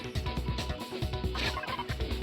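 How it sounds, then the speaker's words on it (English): Chickens in the Danganronpa: Trigger Happy Havoc video game give a quick series of rhythmic clucks and gobbling calls, close and clear, repeating in short bursts throughout. "Oh, the chickens!"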